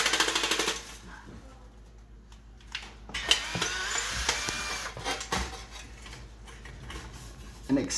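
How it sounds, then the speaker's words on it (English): A power drill runs in reverse to back screws out of a bracket inside an Electrolux dryer during heating element replacement, producing bursts of rattling, ticking motor whir with pauses and clanks between them. "Get your screwdriver deep in there. Take out those screws."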